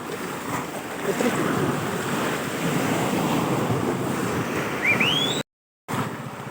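Strong wind roars steadily against the microphone, a loud, rushing gust that briefly cuts out near the end before returning.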